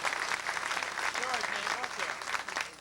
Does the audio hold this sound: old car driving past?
no